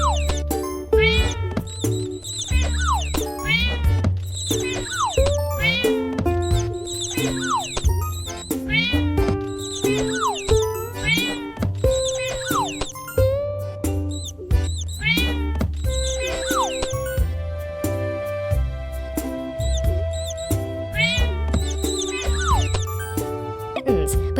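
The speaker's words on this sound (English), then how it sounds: "Tap on the objects to find the kittens and bring them back to their mom." Cats meowing in a kids' video game about finding kittens and returning them to their mother: repeated cartoonish meows laid over a continuous bouncy music track, loud and close throughout.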